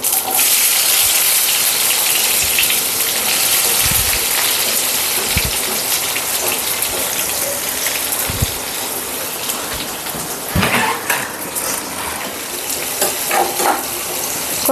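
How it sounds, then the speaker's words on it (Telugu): Chopped onions sizzle loudly in hot oil with mustard seeds, fenugreek and cumin for a fish pulusu, giving a dense, steady crackle close by with occasional louder spits and pops. "అవి వేగిన తర్వాత ఆనియన్ వేస్తున్నాను."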